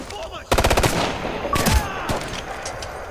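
A rapid machine gun burst from the Ghost Recon Future Soldier military shooter, Raven Strike DLC, fires loud and close, followed by scattered gunfire and battle noise, with brief voices in the mix.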